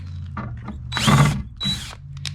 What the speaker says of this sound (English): you want to pre-drill the hole with a drill bit that's a little smaller than the screw